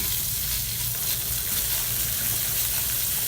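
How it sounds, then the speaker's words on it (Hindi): Vermicelli frying in a pan over a low flame while a spoon stirs it, giving a steady, even sizzle with a low rumble beneath, close by and continuous without a break. "और लो फ्लेम पर ही इसमें सेवइयाँ फ्राई कर लें।"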